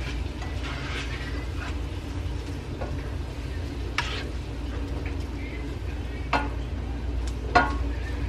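Trader Joe's Cajun shrimp cooking in a pan gives a steady sizzle with a few faint clicks and scrapes, close and moderately loud, with no one talking.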